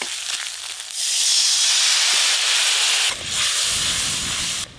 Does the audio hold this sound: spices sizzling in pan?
yes